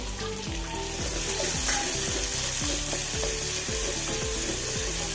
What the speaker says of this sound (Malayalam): ഇനി അരിഞ്ഞ് വെച്ച ഉള്ളി ഇട്ട് കൊടുക്കാം